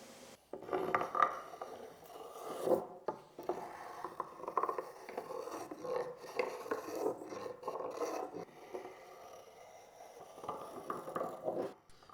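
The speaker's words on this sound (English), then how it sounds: "often I use my hand tools to do some minor touch-ups, like removing the CNC marks." Hand tools rasping and scraping on a wooden table base to smooth away CNC machining marks, giving irregular close rubbing strokes with brief pauses and faint clinks, fairly quiet with no speech.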